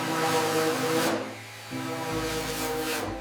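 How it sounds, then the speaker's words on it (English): Power sanding on a door panel of a 1928 Isotta Fraschini 8A during restoration, a steady abrasive whir with a tonal motor hum that dips briefly mid-clip then resumes, close and loud. "We're now in the restoration phase, carefully sanding the door panel."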